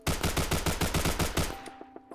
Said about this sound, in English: let's go ahead and do a mag dump